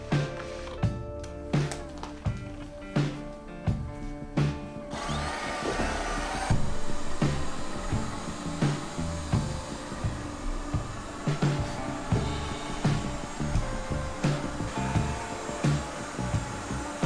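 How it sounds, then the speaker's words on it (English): An Alfawise V8S Pro robot vacuum cleaning a room gives a steady whirring motor drone, with repeated bumps and rattles and louder brushing after a few seconds. "I have the best-selling Alfawise vacuum robot."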